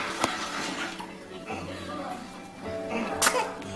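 A baby sneezes, two sharp bursts about three seconds apart, close up, with adults murmuring and reacting around it.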